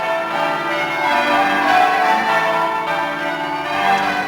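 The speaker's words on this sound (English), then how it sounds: "the cathedral bells will ring out to celebrate St David's Day" St David's Cathedral bells, housed in the gatehouse and named after Welsh saints, ring out for St David's Day with rich overlapping peals and a continuous shimmering resonance, close and loud, with no speech.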